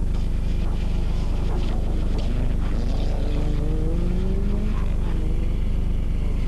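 Rally cars race on a road at the 1987 24 Hours of Ypres rally, engines droning and revving steadily over continuous broadband noise, with faint gear-change pitch sweeps and no clear talk.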